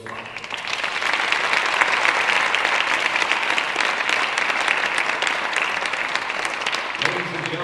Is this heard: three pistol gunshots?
no